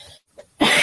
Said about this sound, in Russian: но это еще сильный кашель начался